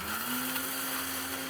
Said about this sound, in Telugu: ఇప్పుడు వీటిని అంతా మిక్సీ జార్లో వేసి మిక్సీ పట్టేద్దాం.